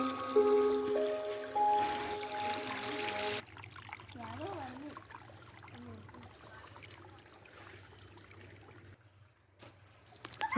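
Rainwater runs along the ground toward a canal, carrying a sandal with it, as a soft steady trickle sitting beneath a voice and some music at the start.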